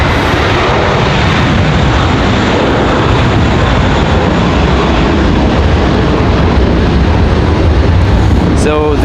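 A jet airliner on the move at Raleigh-Durham airport gives a loud, close, continuous engine roar that stays at full strength throughout.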